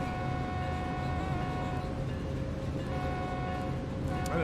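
A BNSF freight train in Train Sim World 3 at Cajon Pass rolls past with a steady, loud mechanical rumble and sustained tonal whine from the locomotives, continuous throughout.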